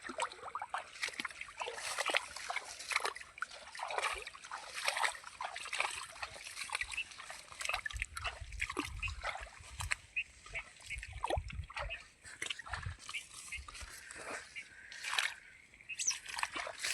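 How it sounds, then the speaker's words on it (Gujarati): Irrigation water flowing into a farm field, a soft continuous trickle and splash heard faintly and close, with irregular gurgles throughout. "ખેતરમાં આવે છે પાણી।"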